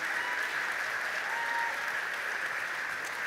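An audience at a middle school graduation ceremony applauds the parents of the graduating students, giving steady, sustained clapping that fills the hall at an even level throughout, with no talking over it.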